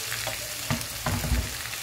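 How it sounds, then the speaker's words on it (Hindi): Sliced medium-sized tomatoes frying in a pan over onion, garlic and ginger for a dhaba-style dal mash, with a steady low sizzle and a few louder stirring scrapes and clatters close by, no talking. "इनको 4-5 मिनट तक अच्छी तरह से फ्राई कर लेंगे"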